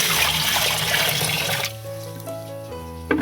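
Water gushes and splashes into a vessel while arrowroot powder is mixed at home, a loud rushing pour for over a second that gives way to quieter trickling and a final splash.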